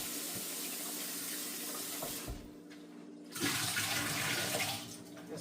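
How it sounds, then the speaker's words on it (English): Cold tap water runs steadily over potatoes being rinsed in a sink, a continuous splashing stream that briefly dips and then surges again, with no talk. "You want to rinse them off in cold water."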